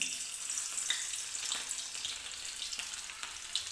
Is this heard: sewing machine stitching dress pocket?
no